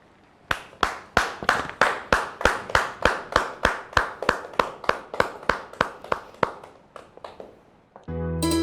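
Rhythmic unison clapping from a studio audience at an Inam Ramzan Ramadan television show, about twenty even, loud claps at a steady beat, ending abruptly as a burst of music starts.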